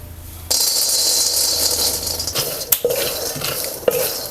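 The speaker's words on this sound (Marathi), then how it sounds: "आता कढई गरम झालेली आहे आता आपण कढईत आहे ना शेंगदाणे घालूया" Raw peanuts poured into a hot kadhai over a wood-fired chulha for roasting: a sudden rattling clatter as they hit the pan, then scraping stirs with a couple of sharp knocks, no talking.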